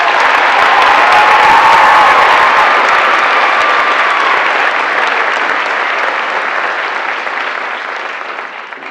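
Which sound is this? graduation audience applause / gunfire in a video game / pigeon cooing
graduation audience applause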